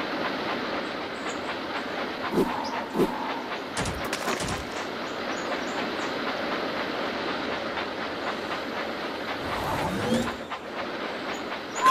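Train engine rolling along the tracks in a Thomas construction video game, with a steady rumbling clickety-clack under the whole stretch, a few sharp clanks and a louder swell near the end.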